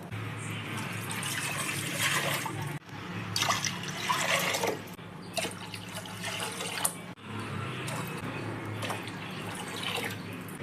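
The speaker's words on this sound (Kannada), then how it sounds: "ಪಾತ್ರೆಯಷ್ಟು ನೀರನ್ನು ಕುಕ್ಕರ್ಗೆ ಹಾಕ್ಕೊತಾ ಇದ್ದೀನಿ, ಸಂಡಿಗೆ ಹಿಟ್ಟನ್ನು ಬೇಯಿಸ್ಕೊಳ್ಳಿಕ್ಕೆ." Water is poured into a pressure cooker to cook rice flour dough for rice crackers, a steady splashing pour that runs continuously with brief pauses between potfuls, close and fairly quiet.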